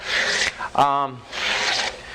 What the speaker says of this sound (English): we're just going to go around this whole thing now with the 1-inch wide 80 grit emery cloth